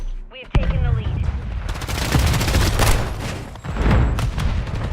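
Grenade explosions and rapid gunfire from the Helldivers 2 video game burst in dense, loud volleys, with heavy booms and crackling shots overlapping almost without pause.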